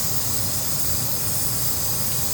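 Mustard and fenugreek seeds sizzle in hot oil with a steady, even hiss that stays constant throughout and has no talk over it.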